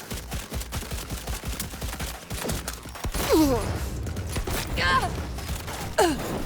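Gunfire in the video game Cyberpunk 2077 rattles in quick bursts, mixed with gasps and sweeping vocal-like sounds. The shots grow denser and louder in the second half.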